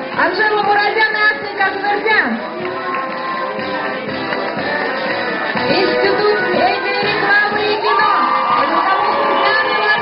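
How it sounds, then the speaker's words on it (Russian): Loud crowd at a student sports day opening in a university courtyard, with continuous cheering, clapping and children's shouts filling the whole stretch, a voice calling out faintly underneath. "Аплодисменты!"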